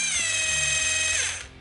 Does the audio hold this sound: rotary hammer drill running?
yes